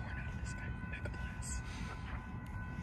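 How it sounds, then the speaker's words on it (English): A Metra Union Pacific Northwest line train pulls into a station with a soft, low rumble and a steady faint whine. A station announcement and a few brief sharp noises play over it. "Chicago OTC is now arriving. Please step behind the yellow line."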